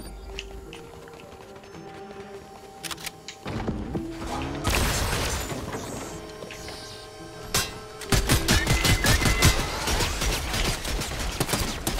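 An automated turret in Fortnite fires in rapid bursts, with sharp, dense gunfire building in intensity and loud clattering volleys near the end, amid other game sounds and no talk.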